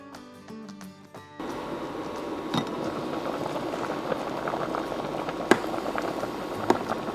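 Cubes of potimarron pumpkin simmer in a covered pot, a steady low bubbling and hiss that runs continuously after a brief quieter start, with occasional louder pops and lid clinks.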